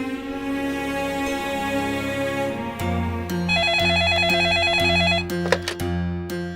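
A telephone rings with a repeated electronic trill, loud and close, over steady musical tones and a sharp clatter near the end.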